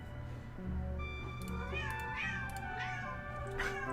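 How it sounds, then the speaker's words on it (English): Pet cats meow loudly indoors, with a series of rising and falling calls that overlap and repeat every second or so. A steady low hum runs underneath. "My cats are so loud."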